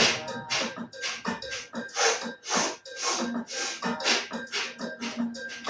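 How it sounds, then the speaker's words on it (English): Rapid rhythmic sniffing breaths in a yoga breathing exercise, short sharp nasal inhales and exhales in quick even bursts, close and clear with no talking. "like a sniffing breath like this"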